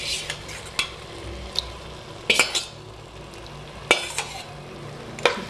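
Yogurt-marinated chicken stirred and sautéed in a clay pot, with a steady low sizzle broken by sharp scrapes and knocks of a utensil against the pot at irregular intervals; no talking.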